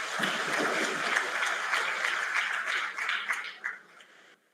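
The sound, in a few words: applause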